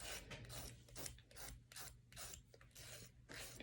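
A nail file rasps back and forth across an artificial nail tip in steady repeated strokes, close and fairly quiet, with no talking.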